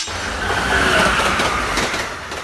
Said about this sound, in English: Transit train. A general term for trains used in public transportation systems.